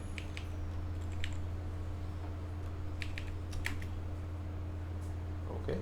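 Keys clatter on a computer keyboard while typing into a Linux shell, in a few short bursts of soft clicks over a steady low electrical hum, with no voices.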